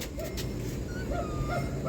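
A pack of dogs yips and whimpers, with a few short high calls rising over a steady, noisy outdoor background.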